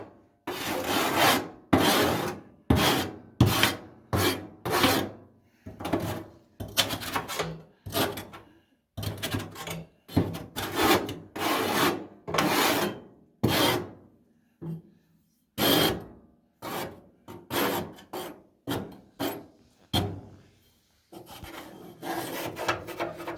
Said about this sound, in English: So I'll scrape the sides of the walls here.